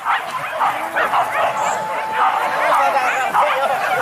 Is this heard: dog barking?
yes